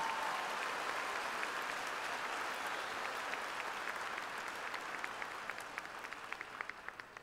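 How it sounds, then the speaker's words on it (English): An audience at a Dodge City Public Schools graduation ceremony applauds the graduates in a dense, sustained wash of clapping that thins out toward the end, heard from some distance. "Let's give our graduates a well-deserved round of applause."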